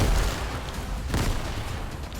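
A grenade blast in the video game Fortnite, a loud, dense burst of rumbling noise that stays heavy for about two seconds with a second swell midway.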